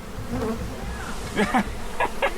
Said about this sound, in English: It's raining bees